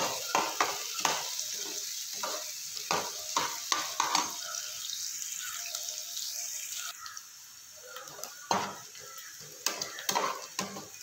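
Chopped onion and green chilli fry in oil in a pan, a continuous close sizzle broken by frequent scraping and clinking strokes of a spatula, with a quieter, steadier hiss partway through.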